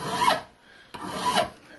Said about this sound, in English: walk the file in circles so I don't get to just file in one place